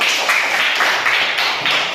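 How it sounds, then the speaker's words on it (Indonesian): A classroom of students clapping for a classmate, a dense continuous patter of many hands close by, fairly loud and steady throughout without talking. "Tepuk tangan untuk Rizky."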